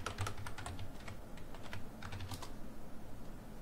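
Password being typed on a computer keyboard at a desk, a quick run of light key clicks in short bursts with small pauses, close and clear with no talking.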